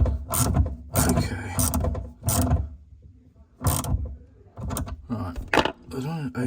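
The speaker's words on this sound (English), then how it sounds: "let's use a ratchet" A ratchet with a 10 mm socket tightens a plumbing fitting in several short bursts of close mechanical clicking, with a voice speaking between strokes.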